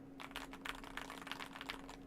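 Fast, even typing on a Monsgeek M1 v5 Hall Effect mechanical keyboard filled with foam, a quiet, muted run of soft keystrokes close by over a low steady hum.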